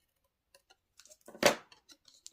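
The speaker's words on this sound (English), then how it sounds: "use a pair of paper snips and cut about center and then go from the corner to the top of that cut line" Paper snips cutting through cardstock, with a few light ticking snips, then one sharp louder crunching cut, followed by small clicks as the blades close, quiet and close.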